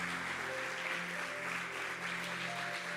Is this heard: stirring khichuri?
no